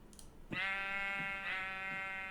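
Sheep bleating in a video game, two nasal bleats one after the other, close and clear with no talk.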